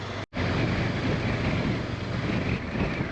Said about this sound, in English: So it's getting very windy.